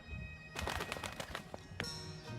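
A talking bird in the adventure game Dreamfall Chapters lets out a burst of squawks and throaty chatter, close and fairly loud, followed by a sharp call after a brief pause, over a quiet ambient hum.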